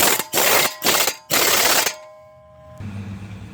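A ratchet tightens brake caliper bolts on a GMC Acadia during a CV axle replacement: three close, loud bursts of rapid clicking, separated by short pauses, then quiet with a faint hum.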